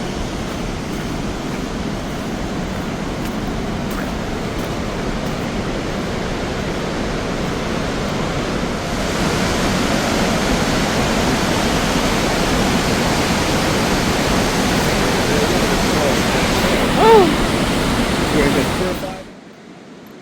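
A waterfall in Iceland gives a steady broadband roar of rushing water that gets louder partway through and then cuts off near the end.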